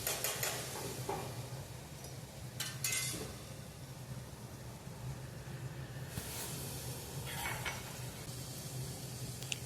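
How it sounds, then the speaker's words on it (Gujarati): Soaked chana dal being stirred and mixed in a pot, soft scraping and sloshing with a few brief louder clinks of a spoon against metal over a steady low background hum, no talk. "તે બધું હલાવીને આપણે મિક્સ કરી દઈશું."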